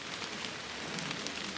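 Rain falls steadily on public land in Pennsylvania woods during an archery buck hunt, a constant close hiss of drops on leaves and ground with no voices.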